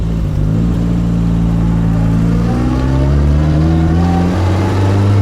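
A 1960 Austin-Healey Bugeye Sprite pulls away with its engine droning loud and close, the pitch rising steadily as it accelerates.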